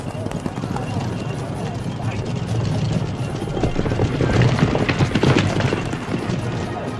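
Horses trotting in time-trial races, with a busy rhythmic clatter of hooves under a steady rumbling crowd and a voice talking over it, growing fuller and louder toward the middle.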